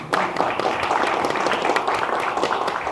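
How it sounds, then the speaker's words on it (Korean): Audience in a basement theatre hall at a live public music broadcast in Insadong, Seoul, applauding steadily, with dense clapping holding at an even level for the whole stretch. "여러분 감사의 박수 한번 여러분 보내십시다."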